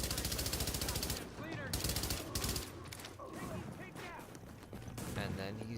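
Rapid sustained bursts of Infantry MG5 light machine gun fire in The Division video game, dense rattling volleys at close range, with a voice talking over the shooting throughout.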